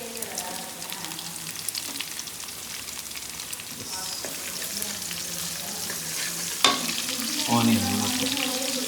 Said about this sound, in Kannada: ಇದು ಗಾರ್ಲಿಕ್, ಜಿಂಜರ್ ಮತ್ತು ಕರಿ ಲೀವ್ಸ್ ಹಾಕಿ ಕೊಕೊನಟ್ ಆಯಿಲಲ್ಲಿ ಸಾಟ್ ಮಾಡಿದ್ವಿ